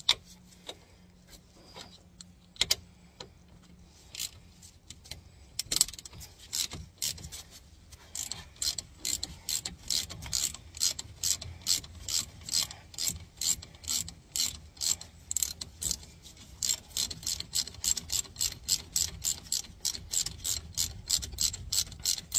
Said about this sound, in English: Once it's cracked, get your ratchet and get it off even quicker.